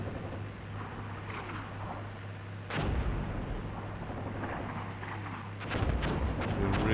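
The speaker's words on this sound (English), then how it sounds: "enemy is just smacking us with artillery" Artillery fire in the Cold War tactics game Armored Brigade 2, heavy booming blasts with rolling rumble and a second burst of impacts, loud and dense with no talking.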